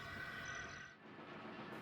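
A breakdown train in a Thomas & Friends story rolls in with a faint, steady rumble of moving rail cars. The sound is quiet and continuous, and a high tone fades out partway through.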